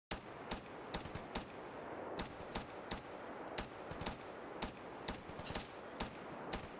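Rapid gunfire from a firefight in STALKER GAMMA, with a steady stream of sharp, evenly spaced shots popping over a constant background wash at moderate, somewhat distant loudness, about two shots per second.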